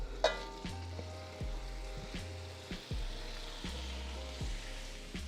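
Ground beef and Italian sausage fry in olive oil in a pot, a steady close sizzle broken by regular stirring thumps and scrapes for soup.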